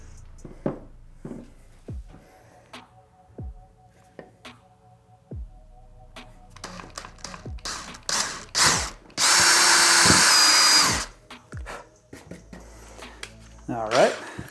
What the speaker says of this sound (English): So, drilling the pilot hole first.